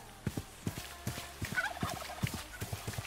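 Turkeys in the Minecraft RLCraft modpack gobble in a rapid string of short, clipped pulses, repeating steadily and fairly close throughout.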